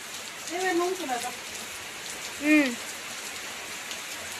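Heavy rain with thunder and lightning at a village temple fair hisses steadily throughout, with a couple of short bursts of talking rising above the downpour.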